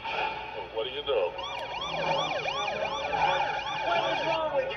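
An ambulance siren in a movie trailer wails in repeated rising and falling sweeps, loud and close, over a low rumble of background noise.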